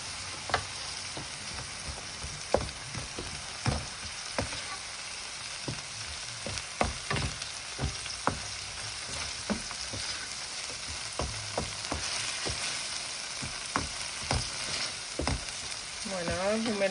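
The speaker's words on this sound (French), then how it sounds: "خلطوا كل شيء مع الطوماط كونسونطري" Paella ingredients and tomato concentrate being stirred in a pan, a constant low sizzle punctuated by sharp, irregular utensil knocks and scrapes over a long stretch, without speech.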